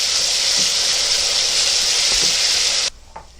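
Garlic paste sizzles and fries steadily in a hot pan as a loud, continuous broadband crackle that cuts off abruptly near the end, leaving a quiet tail.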